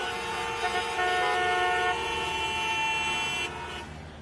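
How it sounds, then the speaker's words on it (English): Car horns blare almost continuously in Mumbai traffic at a red signal, several overlapping loud tones layered over road rumble, with no one speaking. "Here, people honk even when the signal is red."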